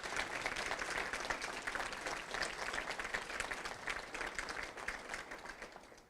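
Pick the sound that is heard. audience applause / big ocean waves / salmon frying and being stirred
audience applause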